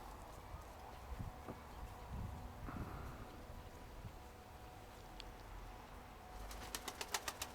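Soft pigeon cooing and rustling near the start, then a quick burst of wing flaps clattering at the end.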